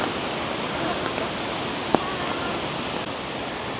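Water from the waterfalls at Wulai, Taiwan rushes in a steady, broad hiss heard from a high vantage point, continuous and even throughout, with one faint brief click midway.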